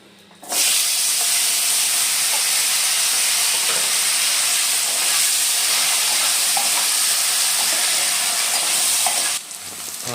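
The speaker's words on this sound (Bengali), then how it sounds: "আলুটা ভাজা হচ্ছে" Potatoes fry in hot oil in a pan for a Bengali fish curry with kohlrabi, giving a loud, steady sizzle that starts abruptly and holds for several seconds before easing near the end, with no talking.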